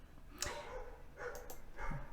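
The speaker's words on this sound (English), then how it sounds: "the dog is barking" A dog barks a few times in the background, spaced-out muffled barks at moderate distance with a faint whimper, no one speaking.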